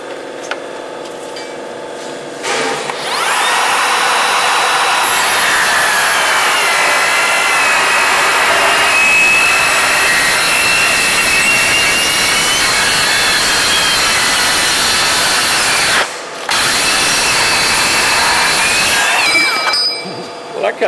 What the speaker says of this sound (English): You're going to cut my channel with a circular saw instead of us cutting it on a bandsaw.